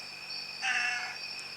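A pet cat gives a single short meow, close and fairly clear over a faint steady background hum.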